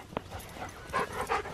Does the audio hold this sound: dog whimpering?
yes